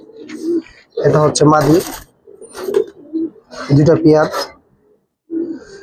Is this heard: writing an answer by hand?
no